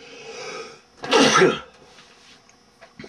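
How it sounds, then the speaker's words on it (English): A single sharp human sneeze bursts out loud and close, with a short breathy build-up and a quiet pause after it and no talking. "Uh-oh, I feel a sneeze coming on."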